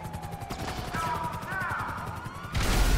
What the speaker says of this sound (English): I just threw 2 grenades. 2 sticky bombs.